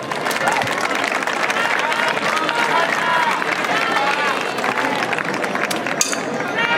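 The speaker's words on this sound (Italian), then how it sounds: "Un applauso di incoraggiamento" An encouraging crowd at a slingshot shooting event breaks into steady, loud, sustained applause and clapping with chatter mixed in.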